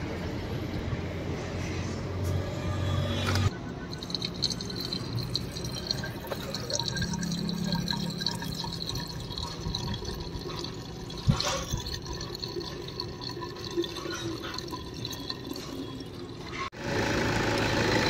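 Water spraying steadily from a nozzle onto a Toyota Innova's metal radiator to clean it, a continuous hiss and splatter close by, with brief pauses and shifts in the spray.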